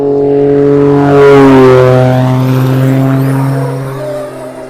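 Traxxas Slash RC car's electric motor revving in a steady high whine that rises and holds for a few seconds, loud and close, with no talk.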